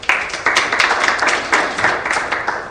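An audience claps for a man who has just come up to the front, a short burst of scattered, fairly close hand claps lasting a few seconds.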